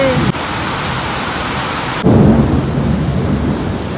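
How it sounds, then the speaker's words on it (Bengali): A dense, steady downpour of heavy rain roars close by, joined halfway through by a louder rumble of thunder that swells and lingers. "কি অঝরে বৃষ্টি শুরু হয়েছে"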